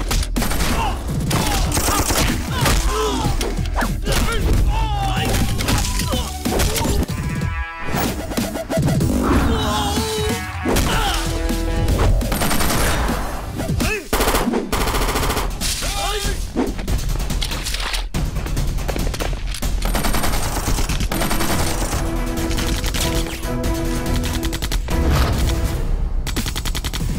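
Bursts of rapid gunfire crackle through a dense, loud action soundtrack from the South Indian film Patas dubbed in Hindi, with booms and other effects layered throughout.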